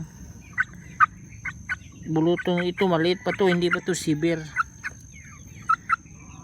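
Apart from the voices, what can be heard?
chicken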